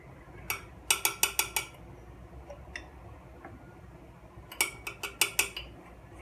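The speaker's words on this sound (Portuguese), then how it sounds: "Tô passando ele para outro frasco. Eu preciso de 50 gramas dele." A spoon scrapes sourdough starter into another glass jar in a quiet kitchen. Two quick bursts of sharp clinks and taps ring out, with a few isolated knocks in between.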